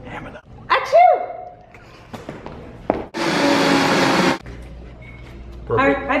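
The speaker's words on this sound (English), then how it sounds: "So with all that blending, it's warmed up the dressing a little bit." A blender whirs loudly for about a second while mixing Caesar dressing in a kitchen, cutting in abruptly between a dog's barks, scattered clatter and talk.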